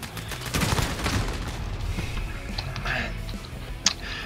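Rapid gunfire in the game Call of Duty Modern Warfare, with dense, fast bursts of shots running throughout and a sharper crack near the end, under faint talk.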